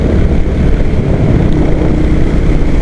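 A Royal Enfield Hunter 350 motorcycle cruises at 80 in fifth gear. A dense, steady engine drone is heavily mixed with loud, roaring wind rush.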